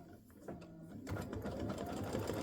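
An embroidery machine stitches a Mrs Claus fill design for a Cookies for Santa pattern, giving a steady, close whirring hum that grows louder and busier after the first second and runs on without pause.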